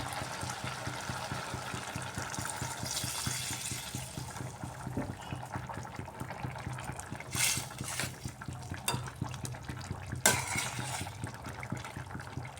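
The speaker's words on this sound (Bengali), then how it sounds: "এর মধ্যে আমি দিয়ে দিচ্ছি পরিমাণ মতো গরম জল" Hot water poured into a simmering pot of gourd and rohu fish curry, a steady liquid splash and bubbling throughout, with a few louder sloshes near the end and no talk.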